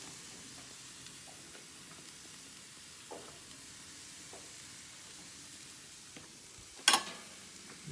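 Hamburger patties fry in a pan with a soft, steady sizzle that stays faint throughout, broken only by a sharp clatter near the end.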